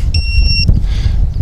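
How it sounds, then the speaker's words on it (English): A FEILUN FX-127 Chaser FPV race drone sounds a single short, shrill electronic low-battery beep. It is heard over the loud low rumble of wind and handling noise outdoors. "there's our low battery beep"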